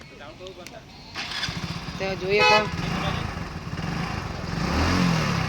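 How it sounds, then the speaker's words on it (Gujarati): A motorbike engine starts and then revs, rising to a louder, rougher roar toward the end, with a person talking over it nearby. "બાઈક ચાલુ કરવાનું"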